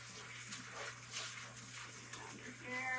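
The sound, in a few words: washing bok choy under running tap water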